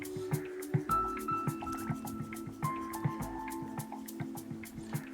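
A released fish splashes and kicks off in the Goulburn River in Victoria, giving small wet drips and sloshes in an irregular rhythm, close and fairly quiet against a faint steady background hum.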